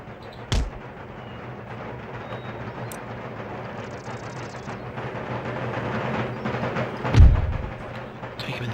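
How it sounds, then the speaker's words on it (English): Artillery fire in an Empire: Total War battle: two heavy booms roughly six seconds apart rise over a continuous rumbling battlefield din. "I'm going to use artillery on this guy"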